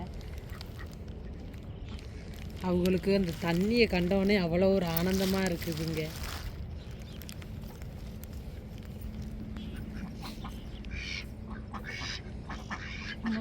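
Ducks quack in a loud, rapid burst of harmonic calls for a few seconds, with a person talking throughout and outdoor noise behind.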